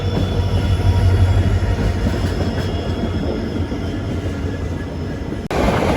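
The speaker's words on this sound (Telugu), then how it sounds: "గైస్ అబ్బా గూడ్స్ బండి ట్విన్ లోకోమోటివ్తో అయితే ఉంది." A goods train hauled by twin locomotives rolls past in a loud, continuous rumbling roar with a low engine drone and faint wheel squeal, ending abruptly.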